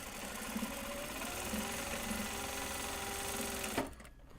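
A sewing machine runs continuously finishing seams on large box bags, a steady close whirring hum that stops abruptly near the end.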